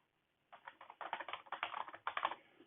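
Rapid clicking of keys on a computer keyboard, a close, steady burst of irregular keystrokes after a brief silence, with no voice over it.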